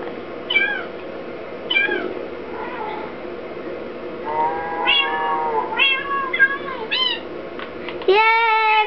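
Baby ocelot cats in Minecraft give a series of high, squeaky meows in short bursts, some overlapping, against a low, steady game background.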